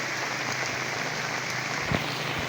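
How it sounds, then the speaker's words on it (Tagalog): Steady rain falls outdoors among fruit trees and crops on a farm in Cavite, a dense even hiss with no pauses and a faint thump near the end. "Sensya na guys at umuulan."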